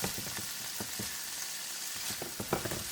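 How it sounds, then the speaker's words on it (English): Scallops sizzle and fry in a hot pan for a seafood paella, giving a dense, steady crackle with small pops and stirring scrapes close by. "Put in the scallops. Let's cook the scallop for about 2 minutes."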